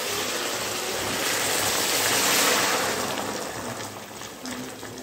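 Hot water pours steadily into a pan of spiced potato curry, a continuous close gushing rush that swells in the middle and eases toward the end, with no voices.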